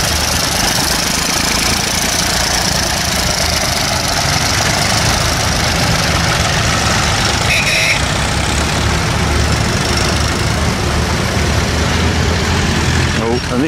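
A Ford Super Dexter tractor runs at a tractor run event. Its engine gives a steady, loud, close diesel knock and rumble through the whole stretch, and voices talk over it.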